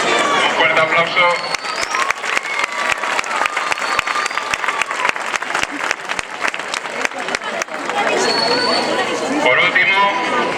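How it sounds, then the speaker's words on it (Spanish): A school audience applauds at an end-of-year award ceremony, with loud sustained clapping from a crowd and chatter mixed in. The clapping thins briefly toward the end before swelling again. "Un fuerte aplauso."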